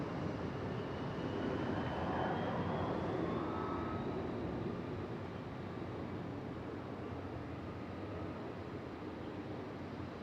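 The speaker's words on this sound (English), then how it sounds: "Delta lining up out there and waiting. A319, I believe. Should sound good on departure." A Delta Airbus A319 airliner departing Raleigh Durham International Airport, a steady broad jet roar with a faint rising whine, heard from a distance and sustained throughout with no talking.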